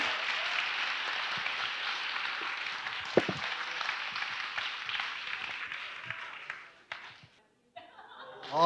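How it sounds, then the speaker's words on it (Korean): Sustained crowd applause at a Korean book concert, steady and full for about seven seconds with a few chuckles mixed in, then thinning out and dying away. "박수 한번 보내주세요"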